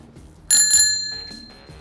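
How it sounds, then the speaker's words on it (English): A handlebar bell on a Schwinn tricycle gives a single bright ring followed by a second quick strike, the metallic tone ringing on and slowly fading in a quiet room. "Slide the bell into position on the left side of the handlebar"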